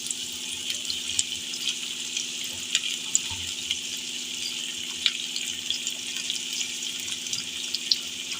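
Capsicum frying in a pan for chicken jalfrezi, a steady close hiss of sizzling oil with occasional faint ticks and crackles and no talk.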